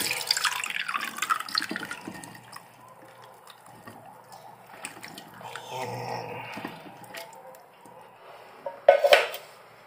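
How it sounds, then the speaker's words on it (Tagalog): Canned fruit cocktail is drained in a home kitchen: liquid trickles and drips while metal and dishware clink intermittently, ending with a sharper clatter. "kailangan natin i-drain ang fruit cocktail"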